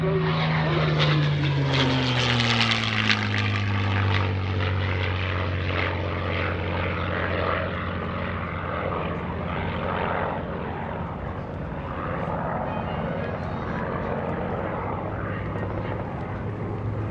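WWII fighters including a Bell P-63 Kingcobra and a Spitfire Mark 9 fly past in formation at an airshow, a loud propeller-engine roar that swells with falling pitch, then fades into a steady distant drone.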